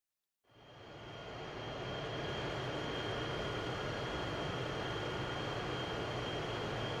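Fighter aircraft engine in the IL-2 Korea flight game, heard from inside the cockpit, starts after a brief silence and quickly settles into a loud, steady drone with a constant high whine, no one speaking.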